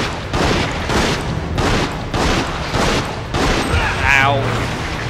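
Repeated gunfire from the video game Resident Evil Outbreak File #2 comes in a steady rhythm of loud bursts about every half second, with a brief electronic effect near the end.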